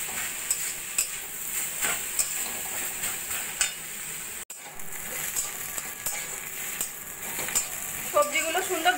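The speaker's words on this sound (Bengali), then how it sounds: "মাঝে মাঝে নাড়া দিয়ে দিয়ে এইভাবে ভাজা ভাজা করে নেব।" Chopped vegetables sizzle steadily in hot oil while being stirred in a pan for a tea-time snack, with occasional scraping and clinks of a spatula, close and moderately quiet; a voice speaks briefly near the end.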